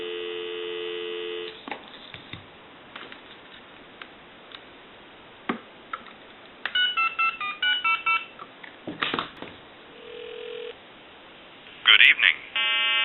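Touch-tone dialer on a restored Western Electric 329 wood wall telephone keys out a quick run of DTMF tone bursts over a steady line hum, with a longer tone, then clicks and a final cluster of tones.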